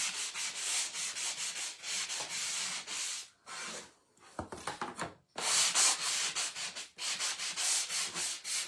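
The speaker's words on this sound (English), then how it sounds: "now we're going to take our sander and kind of sand this" An electric sander scrubs across a wooden sign in repeated bursts of bright gritty rasping. Short pauses and one deeper, quieter dip break up the strokes, and the sound is close and fairly loud with no talking.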